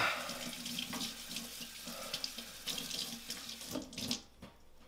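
A tap runs steadily over a hand at a sink, splashing unevenly as the hand moves beneath the stream. It sounds close and continuous, with no voices.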